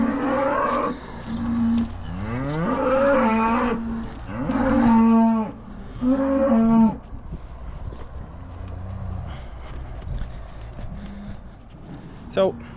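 Several long, loud cow moos from a batch of cows and calves sound close by in a row, with farmyard background noise and quieter lowing continuing afterward.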